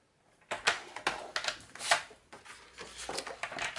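Crisp paper being creased and folded for a handmade card, a run of close, dry crackles and snaps in quick bursts with short pauses between them.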